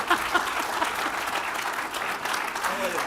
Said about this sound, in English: So please give a round of applause for Alan Hinton, one of the greatest players